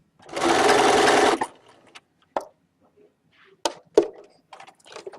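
A sewing machine stitches a buttonhole in one dense, loud mechanical burst lasting just over a second, then stops, followed by scattered clicks and light handling sounds.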